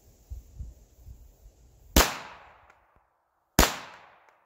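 Two sharp pistol shots from a Girsan 9mm pistol firing weak loads, spaced about a second and a half apart, each with a loud crack and a decaying tail, after some faint low rustling.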